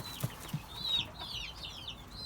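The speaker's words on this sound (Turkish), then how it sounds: "Burada çok kaliteli bir ispenç horozumuz var." An İspenç rooster and chickens in a coop give short clucks and a few higher squawking calls, moderately close, over a steady farmyard background.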